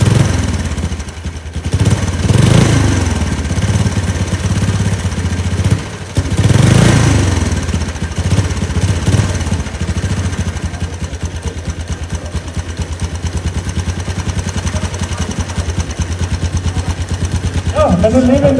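Original 1905 vintage engine with silencer, never opened, running in a steady low chugging rhythm for a long stretch, with a couple of louder surges early on and voices talking over it.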